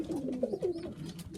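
Stock pigeons coo softly inside a shed, a few low rolling coos in quick succession at close range.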